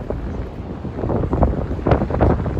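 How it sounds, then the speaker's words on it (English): Gusty wind buffets the microphone outdoors in Midtown Manhattan, New York City, a loud, rumbling, uneven roar that swells and fades in irregular bursts. "It's just a little windy. A lot windy today."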